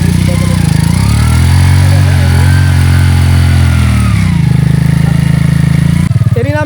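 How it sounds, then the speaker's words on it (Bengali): A motorcycle ridden through water at a river char in rural Bangladesh, its engine droning loud and close with a steady low hum that shifts pitch as it revs near the end. "মোটর সাইকেল কিন্তু এই যে পানি দিয়ে চালিয়ে নিয়ে আসলো"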